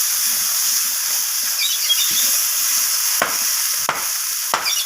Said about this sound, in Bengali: আবারও সমস্ত কিছু এইভাবে নাড়াচাড়া করে আমি কষিয়ে নিচ্ছি।